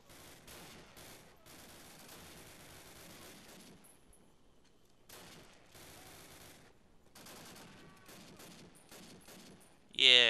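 Gunfire in the World War II shooter Call of Duty, with an M1 Garand in play: bursts of rapid shots and distant volleys rattle on and off, with a louder blast at the end, under a player's occasional talk.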